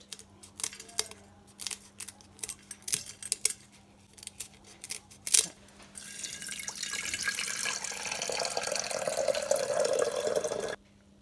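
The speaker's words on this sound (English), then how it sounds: "I'm going to give them a cut now and into my little teapot" Scissors snip weeping bottlebrush leaves for tea in a string of sharp, close cuts, followed by steady running water as a tap fills a container.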